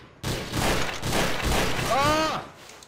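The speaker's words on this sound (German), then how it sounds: "Warum ballerst du auf mich, du Arsch?" Rapid bursts of gunfire in the video game Garry's Mod in Trouble in Terrorist Town mode, loud and close, run nearly continuously for about two seconds, with a player shouting over the shots.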